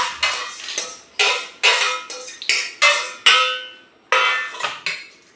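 A spoon clinks and clatters sharply against a bowl while mixing cucumber, lemon, green chilli, onion, cumin powder and chaat masala. About ten distinct metallic knocks come in an irregular rhythm, each ringing out briefly, close and loud with no talk.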